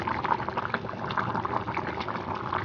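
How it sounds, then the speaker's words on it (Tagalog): A pot of native chicken curry soup at a steady rolling boil, with a continuous close bubbling and gurgling that holds at an even level throughout. "Ayan, kumukulo pa rin."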